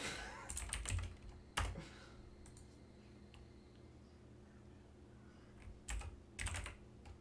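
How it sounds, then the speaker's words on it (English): Close, fairly quiet typing on a computer keyboard comes in short bursts of key clicks separated by long quiet gaps. "why am I even typing that in?"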